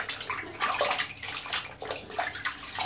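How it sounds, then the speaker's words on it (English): Clean water sloshing and splashing in a bathroom sink while a flannel is rinsed for an evening skincare routine, a steady close wet swishing with small surges over about three seconds, no talk. "I've just put clean water in the sink so that I can show you guys"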